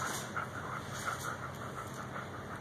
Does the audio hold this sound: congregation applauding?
no